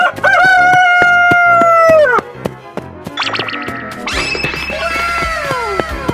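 Cartoon rooster crowing in a 3D animal slide game, a loud drawn-out cock-a-doodle-doo followed by a second higher crow, with game sound effects and music around it.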